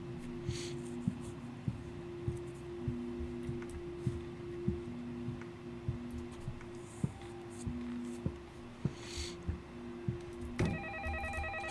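A telephone rings in the horror video game Shadow of Pharos, sounding as a steady repeating tone with regular clicking ticks over a low hum, ending in a brighter multi-tone burst.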